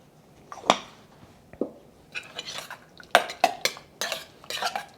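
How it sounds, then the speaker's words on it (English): A spoon stirring a spicy shrimp mixture in a bowl for sushi bake, irregular sharp clinks and scrapes in short bursts, close and fairly loud. "All right, just stir this up."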